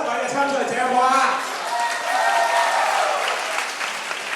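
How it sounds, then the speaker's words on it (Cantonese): An audience at a singing competition gives sustained applause to seven contestants, a dense steady clapping that swells and holds for several seconds with some voices mixed in. "不如大家再俾啲掌聲鼓勵我哋7位嘅參賽者好唔好啊？"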